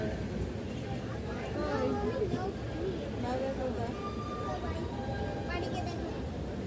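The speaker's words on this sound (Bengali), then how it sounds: "ট্রেন এইমাত্র ছেড়ে দিল" A departing train rumbles steadily with rail clatter and squeals, heard from inside among passengers, with voices and chatter over the running noise throughout.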